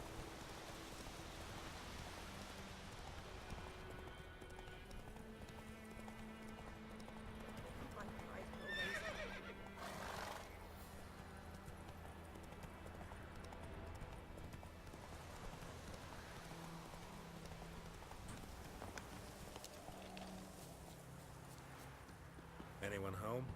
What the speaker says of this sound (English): Anyone else have trouble controlling this damn horse?